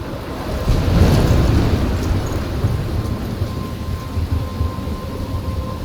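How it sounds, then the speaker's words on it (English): A thunderstorm rages in the video game Life Is Strange, with a rolling thunder rumble swelling early over steady heavy rain and wind-driven surf-like noise that continue loud and unbroken throughout, with no talking. "I'm trapped in a storm?"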